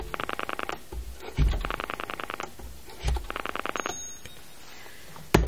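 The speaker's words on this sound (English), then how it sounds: "The phone does have dial tone. And it does, pardon me, and it does break dial." A Western Electric D1 Imperial telephone's rotary dial pulses close by in three quick runs of rapid, even clicks, with soft thumps as the dial is wound between runs.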